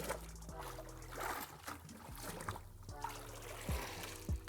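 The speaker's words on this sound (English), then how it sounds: "And then rinse the bucket." Water sloshing and splashing as a bucket is rinsed out beside a pool, soft irregular swishes and trickles with a few small splashes, close and fairly quiet.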